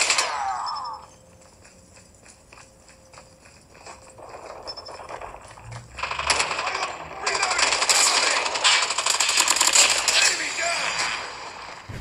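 Rapid automatic gunfire from Call of Duty Mobile played on a Xiaomi Mi 11 phone erupts in loud, sustained bursts through the second half, following quieter game effects and a tone early on.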